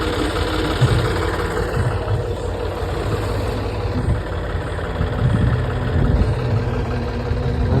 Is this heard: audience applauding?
no